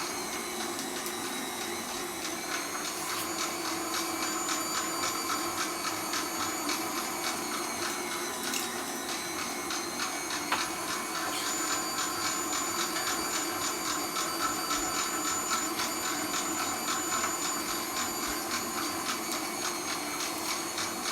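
An electric meat grinder runs continuously, grinding Italian sausage meat for a second pass. Its steady, loud motor whine and hum hold at an even level throughout, with no breaks and no voices.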